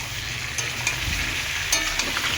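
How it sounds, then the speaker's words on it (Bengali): Pointed gourd and potatoes stir-fry together in a pan, a close continuous sizzle broken by a few sharp scrapes and clicks of stirring. "পটল আলু এখানে কষাচ্ছি"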